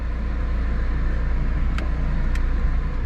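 A Mitsuoka Viewt car being driven, a steady low engine and road drone heard from inside at constant level, with two brief faint clicks and no talk.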